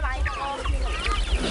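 Native chickens on a farm cluck and squawk close by in short bursts, over a busy outdoor background with children playing.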